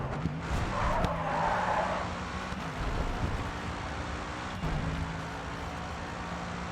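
Race car in the video game GRID 2 driving at speed, a sustained engine drone with a brief tire skid near the start, steady and fairly loud with no talking.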